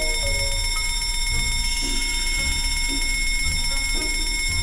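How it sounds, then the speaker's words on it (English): A fire alarm bell rings continuously and loudly in the game Escape the Backrooms, set in a school library at a book fair, its steady metallic clang running unbroken from start to finish. "Can I hit the fire alarm?"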